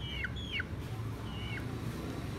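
An Aseel hen gives a few short, high, sliding calls close by, spaced out over a steady low background rumble.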